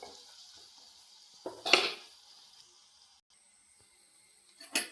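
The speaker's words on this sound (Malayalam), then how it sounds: "ഇതിനകത്ത് ഇഞ്ചിയും വെളുത്തുള്ളിയും ഇടാം. നല്ലോണം ഇളക്കി യോജിപ്പിക്കണം." Ginger and garlic being stirred in a pan for kothu chapati: a few brief metallic scrapes and clinks of a spoon against the pan, separated by near-quiet pauses, close but soft.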